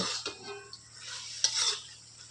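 Greens (shak) being stirred and fried in a pan, with soft scraping and clinking of a utensil over a quiet sizzle. Brief louder scrapes stand out, heard close with no talk.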